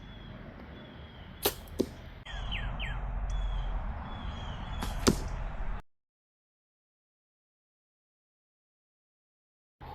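Sharp impact cracks as an arrow strikes another arrow's fletching in the target, a couple of quick hits then another, with bird chirps in the background before sudden silence.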